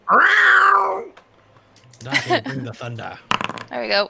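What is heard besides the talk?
cat meowing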